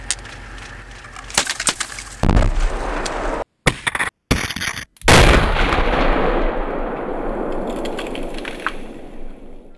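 C-4 charges set by combat engineers go off to fell trees, a series of sharp, loud blasts with cracking and splintering wood, followed by a long rumbling roar and debris settling in the open air.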